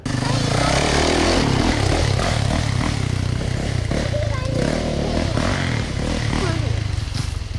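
A 2020 Yamaha YZ450F dirt bike engine runs steadily and loudly close by, a rough continuous rumble with faint clatter throughout.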